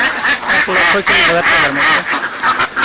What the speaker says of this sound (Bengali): খাবার দেওয়ার পরে হাঁসগুলো বাইরে বের হচ্ছে